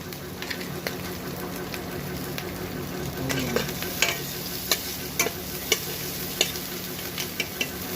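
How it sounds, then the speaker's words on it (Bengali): Chopped garlic fries in a small amount of hot oil in a kadai for potol dorma, giving a steady close sizzle broken by sharp, scattered clicks of a spatula against the pan. "তেলটা গরম হয়ে গেছে। এবার এর মধ্যে কুচনো রসুনগুলো ঢেলে দেবো।"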